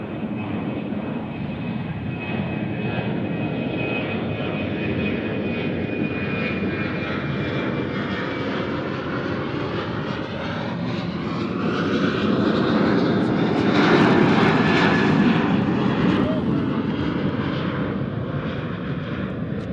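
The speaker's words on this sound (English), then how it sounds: "The One World livery is going around." An airliner in oneworld livery roars overhead during a go-around at Nashville International Airport, its jet engines a loud sustained rumble that swells in the middle and then slowly fades.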